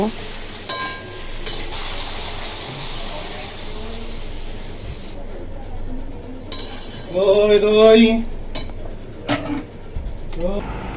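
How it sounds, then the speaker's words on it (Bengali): Fried soybean chunks stirred in a pan give sizzling frying with a spoon scraping and clinking against the metal. The sizzle is steady and fairly close, and a voice breaks in partway through. "ভেজে রাখা সয়াবিনগুলোও দিয়ে দিলাম একটু নেড়ে ছেড়ে"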